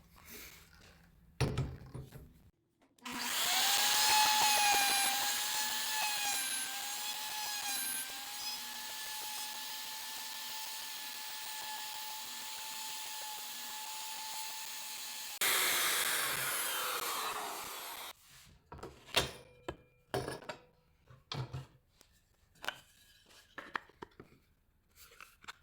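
A router cuts dovetails in a board clamped in a Porter Cable dovetail jig, a loud steady high-pitched whine with a falling pitch through the cut, lasting about fifteen seconds before dropping away into scattered shop clatter.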